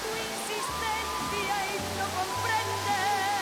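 Waterfall water in a Mexican garden, with falls spilling over rock terraces into a channel, gives a steady, close broadband rush throughout, with a voice-like tonal layer running over it.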